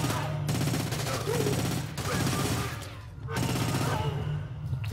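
Rapid bursts of gunfire in the video game Splinter Cell: Conviction crackle over a low hum, with a few brief pauses between volleys and faint talk mixed in.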